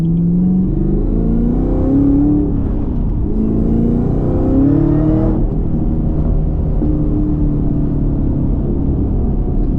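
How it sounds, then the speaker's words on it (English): A Camaro ZL1 1LE's engine rumbles loudly and close while cruising city streets, its pitch rising and dropping in repeated swells as it revs through downshifts, with a deep steady drone underneath. "the downshifts are insane"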